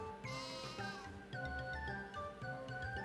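A sheep in a video game gives a short bleat over looping game music, which carries on with plucked notes and a steady beat.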